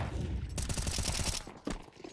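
A rapid automatic rifle spray from CS2 rattles off as a dense, loud burst of about a dozen shots, followed by a couple of separate shots and fading game ambience.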